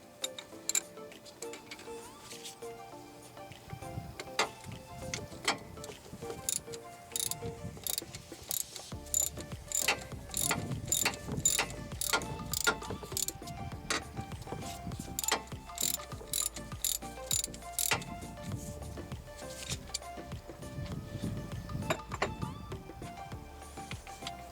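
A 3/8 ratchet and extension turns out a plastic screw on a 2016 Kia Soul transmission, giving a fast steady run of small clicking pawl ticks that continues throughout the clip.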